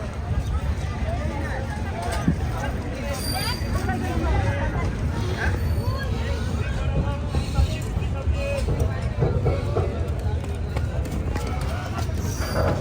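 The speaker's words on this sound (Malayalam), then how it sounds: "രണ്ട് വണ്ടിയിലും വന്ന ആൾക്കാരുടെ തിരക്കുണ്ട് ഇവിടെ" Passengers from two trains throng the platform at New Bongaigaon Junction, a dense steady babble of many voices and footsteps close by, with someone speaking over the crowd.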